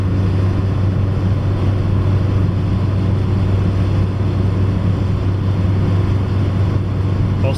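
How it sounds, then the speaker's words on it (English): A car cruises along an interstate, captured by a Bell & Howell DV2300HDZ camcorder: a constant low engine and road drone with some wind rush, steady and unbroken, with no talking. "Another driving test. Going down the interstate."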